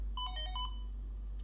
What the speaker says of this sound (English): that's the ringtone, one of them at least